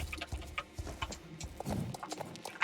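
Horse hooves clip-clop in a rhythmic walking pattern in the horse-ranch video game Star Stable Online, close and moderately loud with scattered clicks.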